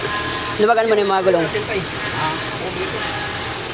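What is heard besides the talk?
car engine running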